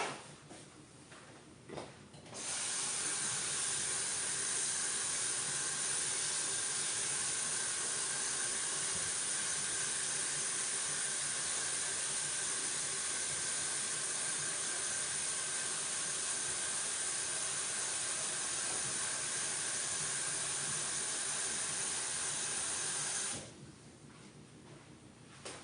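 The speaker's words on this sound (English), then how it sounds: "Now we're going to add water." Water runs into a pot of cabbage as a steady, close hissing rush that starts abruptly, holds evenly for about twenty seconds, then cuts off.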